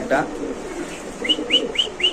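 Black Lahori pigeons, a pair with a male and a female, making soft cooing and chirping calls in a short repeated series of four, with someone talking over them.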